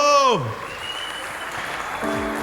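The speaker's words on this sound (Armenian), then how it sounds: "Բարձր ծափարություններ անի պատվին, բրավո" Guests at an Armenian wedding clap for the bride's dance, a steady crowd applause heard under a loud announcer's voice.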